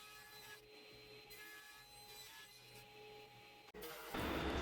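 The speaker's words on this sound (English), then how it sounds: "same process, running it through the drum sander" An end grain cutting board feeds through a drum sander, giving a steady, fairly loud broadband abrasive roar with a whining tone, then a brief dip before the pitch shifts louder and harsher near the end; no talking.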